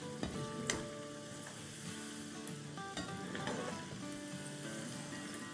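Potato bites sizzle and fry in hot oil in a pan while being gently stirred, a steady close crackle with soft scraping strokes throughout.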